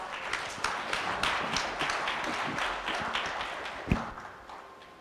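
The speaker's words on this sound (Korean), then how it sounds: "박수 부탁드립니다" Audience at a Korean economic forum session applauds as an SK Telecom speaker is introduced, scattered claps building into a moderate, fairly close round that fades after a few seconds, with one sharp louder clap near the end.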